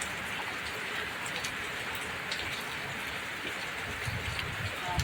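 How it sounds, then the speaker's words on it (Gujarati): Rain falls steadily outdoors during a monsoon downpour, a dense even hiss of drops on surfaces throughout, with faint voices in the background. "સરસ મજાનો વરસાદ મસ્ત પડે"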